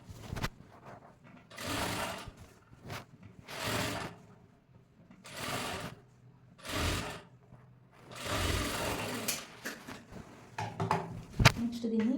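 A sewing machine stitches a marked blouse piece at the shoulder, running in several separate bursts of whirring needle rattle, each a second or two long, with short pauses between them.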